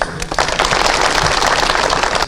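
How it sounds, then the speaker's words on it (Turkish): Sustained crowd applause at an outdoor opening ceremony for a natural gas connection in Gürgentepe, dense and loud clapping running steadily throughout with no speech over it. "Kendisine kocaman bir alkış"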